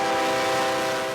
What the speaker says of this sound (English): Every day, up to 30 Canadian Pacific trains zoom on through this residential neighborhood in Plymouth.